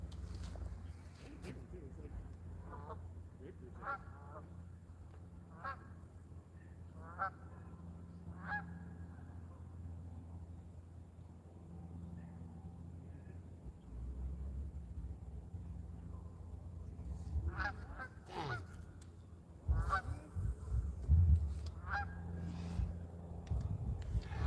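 A goose at the water's edge by a trout and carp fishing spot gives repeated nasal honks, some close and loud near the end, with a low steady hum and someone talking in between.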